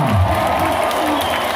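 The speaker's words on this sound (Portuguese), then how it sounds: "Uma salva de palmas!" Dense crowd applause and cheering at a political rally in Juiz de Fora, loud and continuous throughout with voices mixed into the clapping.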